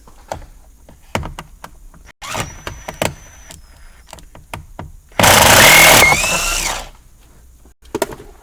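Phillips screws come out of the lower steering column trim on a 2014 Jeep Compass, with scattered clicks and handling knocks followed by a short, loud burst of a power driver whirring nearby.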